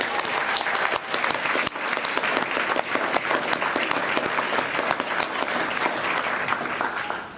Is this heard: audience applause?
yes